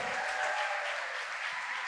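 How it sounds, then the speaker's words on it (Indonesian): Brief burst of sustained applause from a national seminar audience, dense and even throughout, with no speech. "kami sampaikan kepada Bapak Nanang Suherman, tepuk tangan sekali lagi."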